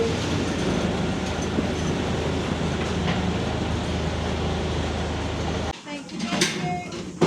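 A Driving Creek Railway train in the Coromandel, New Zealand, running with a steady loud rumble and rattle of the carriages, then easing off near the end as people speak.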